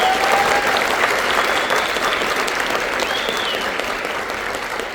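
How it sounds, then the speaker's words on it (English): Audience applause at a junior high all-region band concert, honoring the percussion section: dense, steady clapping from a full crowd, loud and sustained throughout, easing off slightly toward the end. "If you want to give them a round of applause, they've done everything today."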